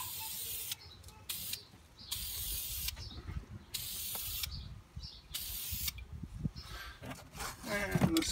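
A spray paint can hisses out a solid colour coat in a run of sharp, close bursts of a second or so each, separated by short pauses and light handling noise.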